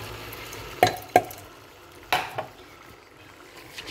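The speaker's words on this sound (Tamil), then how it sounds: "ஆட் பண்ணிவிட்டு ஸ்லைட்டாக ஒரு மிக்ஸ் கொடுங்க" Soaked basmati rice is stirred into an onion masala in a pan for South Indian chicken biryani, with a few close scraping clinks of a spoon against the pan over a faint, steady frying hiss.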